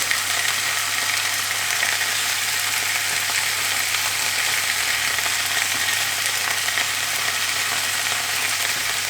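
Carrots, fennel and Moroccan spices fry in a pan alongside browned sausages, giving a steady, even sizzle that crackles softly and continuously throughout with no talking.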